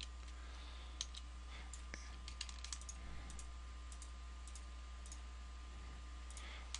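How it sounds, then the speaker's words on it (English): Mouse and keyboard clicks at a computer while working in the Unreal Development Kit editor, a steady scatter of small, close, dry clicks over a faint electrical hum, with no talking. "By holding Control and then left clicking with my mouse button"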